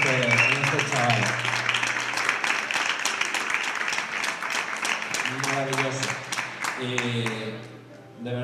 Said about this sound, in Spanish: Le quiero dar un gran aplauso para Sabela y para este chico